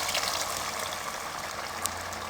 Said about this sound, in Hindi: अब इसमें हम बॉयल किए हुए चनों का जो पानी हमने निकाल के अलग कर दिया था ये इसमें शामिल कर देंगे